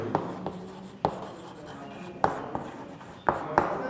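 Marker or chalk writing on a board during a Hindi polity lesson, heard as short scratchy strokes and taps spaced irregularly across the clip, fairly close, with faint room noise between strokes.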